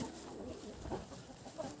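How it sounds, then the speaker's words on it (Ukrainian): Young roosters scuffling in a backyard flock, with soft, low clucks and short guttural calls scattered over a faint, quiet background. "дивіться, щось півники виясняють"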